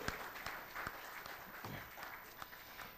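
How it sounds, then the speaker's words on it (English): An audience at an evening town hall meeting claps together, a dense patter of many hands held at a moderate, fairly even level for a few seconds. "why don't we give them a round of applause?"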